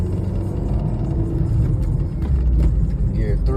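A small car on 13-inch tires driving along a quiet side road, a low steady engine rumble and road noise from inside the cabin with slight changes as gears shift, a voice speaking over it.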